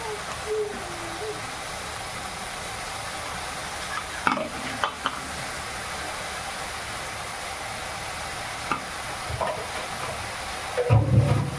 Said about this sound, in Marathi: आता भाजी टाकते मी